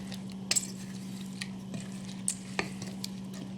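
Ingredients are mixed in a bowl with a utensil, giving a few sharp taps and soft scrapes against the bowl over a steady low hum, close by with no talk.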